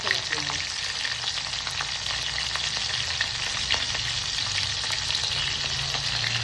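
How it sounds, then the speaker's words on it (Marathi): Cumin and mustard seeds fry in oil over a low gas flame, giving a steady, close, dense sizzle with faint crackles and pops that run unbroken throughout. "गॅस बारीक केलेला आहे आणि मी टाकलेलं आहे जिरं आणि मोहरी दोन्ही एक एक चमचा"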